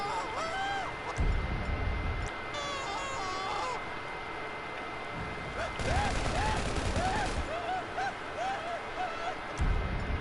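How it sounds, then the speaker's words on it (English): Machine pistol gunfire in GTA 5 comes in several rapid bursts amid busy game noise, with honking, goose-like calls and speech-like sounds mixed in. "Machine pistol."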